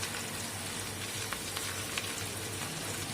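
Carrots and other vegetables, with semolina to follow, fry in a little oil, giving a steady soft sizzle with occasional faint pops and stirring clicks throughout.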